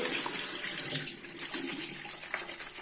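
Tap water runs steadily into a sink while cleaning cloths are washed, a close, continuous splashing stream with small shifts as the cloths move under it.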